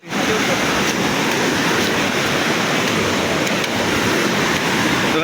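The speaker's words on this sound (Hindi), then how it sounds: "हम लोग आ चुके हैं वाटरफॉल" Vangani waterfall roars as a loud, dense, unbroken wash of falling water up close, filling the whole scene with constant white rush.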